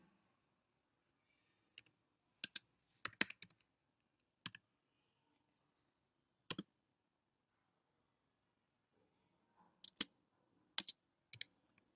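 Someone types on a computer keyboard, sparse clusters of sharp, close key clicks separated by quiet gaps, in a quiet room without talk.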